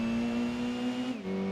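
Mazda RX7 engine in the Gran Turismo 2 video game holding a steady high whine, then dropping sharply in pitch as it downshifts near the end, loud and close.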